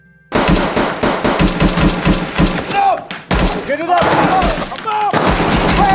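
Loud, dense automatic gunfire fills a film battle scene, rapid bursts of shots with echoing impacts and brief gaps, close and overwhelming throughout.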